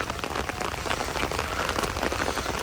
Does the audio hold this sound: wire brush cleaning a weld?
no